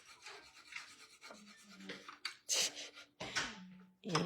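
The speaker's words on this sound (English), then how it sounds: "Then we take our bone folder and we burnish." Bone folder burnishing paper while making thank-you cards, heard as a few short, close rubbing and scraping strokes with quiet gaps between them and no talking.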